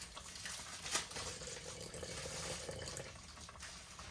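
Water pours from a tap into a measuring cup in a kitchen, a faint, steady trickle and splash that runs for a few seconds on its own.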